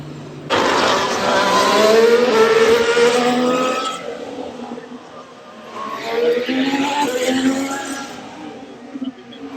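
Formula 1 race cars at the Canadian Grand Prix scream past in two loud, high-pitched engine passes, each rising and then fading, with a quieter gap between them.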